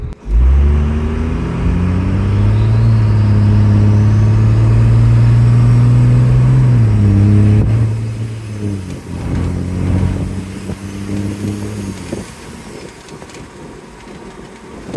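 A second-generation Ram pickup with a Cummins diesel and a swapped-in Allison six-speed automatic pulls hard at full throttle, its loud engine drone climbing steadily, then dropping at a shift before climbing again with no one speaking.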